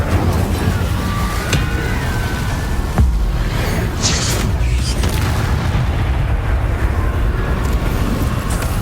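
Fire spells from Hogwarts Legacy burst again and again over a constant loud backdrop of game combat, with heavy booming blasts and sharp pops spread across the fight and no speech.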